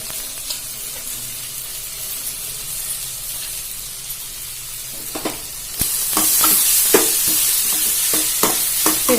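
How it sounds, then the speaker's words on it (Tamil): Carrot, potato and beans sautéing and being stirred in a pan give a steady sizzling hiss that swells louder midway, with scraping stirs on top. "இதை நல்லா வதக்கி விட்டுக்கோங்க. மூணுத்தையும் நல்லா மிக்ஸ் பண்ணிடுங்க."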